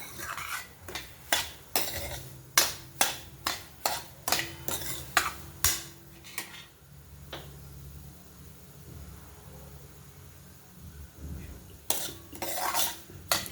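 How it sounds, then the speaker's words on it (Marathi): Semolina roasting in a pan over low heat is stirred with a metal spoon, giving a rapid run of loud scraping knocks against the pan, then a quiet stretch of faint sizzle before a few more close scrapes. "अगदी मंद गॅसवरती सात ते आठ मिनिट आपल्याला लागलेले आहेत रवा भाजायला"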